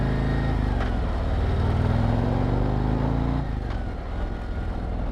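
A 2024 Harley-Davidson Road Glide motorcycle engine while riding, a loud, steady low rumble that dips slightly in pitch partway through as the throttle eases.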